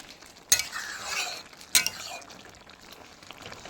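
Ridge gourd and potato cooking with cumin powder in a pan without water, turned over with two sharp scrapes of a spatula over a soft, steady sizzle.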